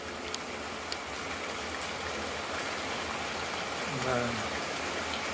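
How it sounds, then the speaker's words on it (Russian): Steady rain falling outdoors where a trimaran hull is being built, a constant close hiss of drops throughout, with a brief spoken word near the end. "Второй день идет дождь."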